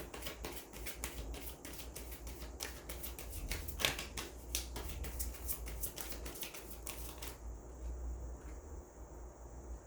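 Tarot cards are shuffled and drawn with a run of soft, rapid riffles and flicks close by. The sound is faint and fades to near quiet at the end.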